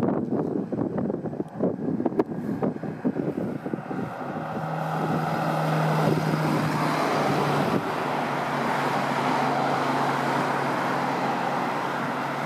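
A car passes on a road below a suspension bridge, heard from a distance. Broadband rushing road noise builds and holds steady, mixed with wind buffeting on the microphone and no voices.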